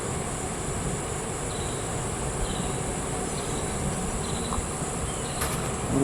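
Italian honey bees drone around an open hive during an inspection, a dense, steady buzz that fills the space close to the frames, with a few faint higher chirps above it and no speech.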